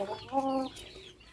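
Fighting roosters in a pen give a few soft clucks and short calls, faint and somewhat distant, in a brief burst.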